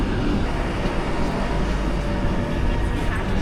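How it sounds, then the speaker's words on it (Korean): Steady, dense rumble of an urban train rolling into a station near Kuala Lumpur, broadband and continuous at moderate loudness with no clear separate events. "그런데 기차 들어왔다"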